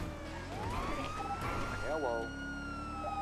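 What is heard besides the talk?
police car siren in a video game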